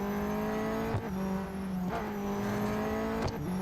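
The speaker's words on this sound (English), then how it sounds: "Lots of weird sounds coming from this car." A race car engine in the video game Real Racing 3 drones steadily, with a few brief dips and shifts in pitch as it runs at speed.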